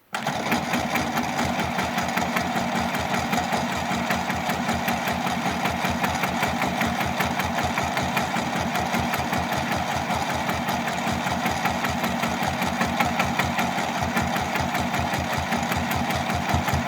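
Sewing machine doing free-motion quilting, a fast rapid-fire stitching chatter that runs continuously and evenly at close range, with no talking over it.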